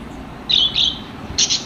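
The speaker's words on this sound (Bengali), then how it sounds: "গ্রিন ফিশার লাভবার্ড পাখি রয়েছে।" Three short, shrill chirps from green Fischer's lovebirds, close and clear, spaced unevenly over a quiet background.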